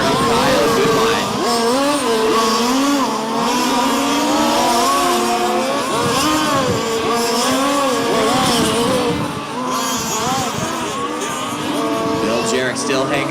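Race cars lapping a track at a live-streamed event, engines droning and shifting pitch loudly and continuously as they pass, with a commentator talking over the noise.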